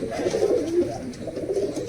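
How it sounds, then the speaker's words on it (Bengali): Soft, low cooing of a male pigeon repeats in a steady murmuring rhythm, close by, over a faint background hiss with no talking. "এই হচ্ছে সেই নর কবুতর"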